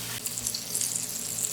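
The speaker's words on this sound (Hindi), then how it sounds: "क्वार्टर कप पानी शामिल कर दें।" Water poured into a simmering mutton karahi cooking over a medium flame, giving a steady hissing sizzle with splashing wash throughout the short moment, close and fairly even in level, with no talk.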